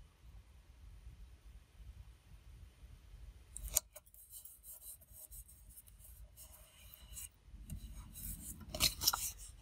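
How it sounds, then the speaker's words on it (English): Scissors cutting around a picture on coffee-stained paper, a run of crisp snips and rustling paper after a quiet start, close and fairly faint. "And we'll cut around this."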